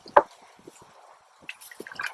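Cold milk poured into a baby's warm milk bath water gives a short splashy plop, then softer drips and a brief trickle, close and alone without talk.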